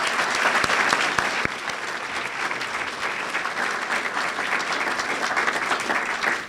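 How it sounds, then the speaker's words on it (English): Sustained audience applause fills an awards ceremony hall, a dense, steady wash of many hands clapping together that holds at an even level before trailing off at the end. "Let's give them another round of applause."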